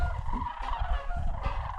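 A flock of snow geese calls in a loud, continuous chorus of overlapping honks, close and busy, with no voices.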